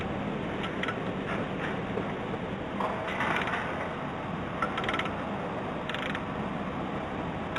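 A 10 mm ratchet works loose a nut on a 1994 Honda Accord LX during a belt replacement, giving a steady rasping mechanical churn with faint clicking bursts, heard close and continuous without talk.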